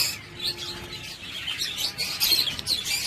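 Pet budgies in a single breeding cage chirp and tweet close by, with quick overlapping high chatter and brief calls, plus a faint flutter of movement, with no talking.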